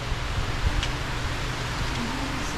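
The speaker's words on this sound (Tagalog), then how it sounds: "Sinagupa natin yung malakas na ulan. Yan, no? Lakas na yung ulan." Heavy rain pours down in a steady, dense hiss, with a few brief knocks and faint background sounds, and nobody speaks.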